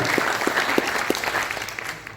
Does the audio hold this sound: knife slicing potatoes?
no